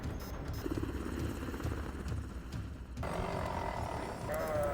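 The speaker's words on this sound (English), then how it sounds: "The helicopter lurches violently" A helicopter in an action film lurches violently through a failing, near-spin flight, its loud steady rotor and engine roar running throughout, with a sharper whine joining in the last seconds before a hard landing.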